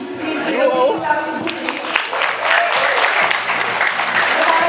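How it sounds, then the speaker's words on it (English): Crowd applause at a band event, starting with a voice over early claps and swelling into sustained, dense clapping from a nearby audience with some chatter mixed in. "A big clap."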